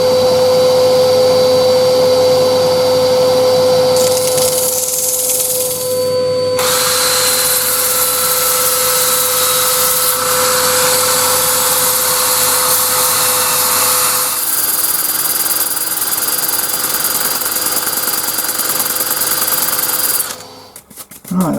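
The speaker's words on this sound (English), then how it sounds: "Right, that's all sanded up to 320" Power sanding of a thin-walled cherry natural live-edge bowl on the lathe, a loud continuous whirring drone with steady tonal hum that shifts pitch a few times, then cuts off near the end.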